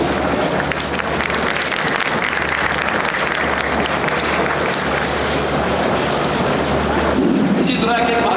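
Applause at an interchange opening event for Capital Smart City, loud continuous clapping mixed with heavy wind noise and a low rumble, with voices audible throughout.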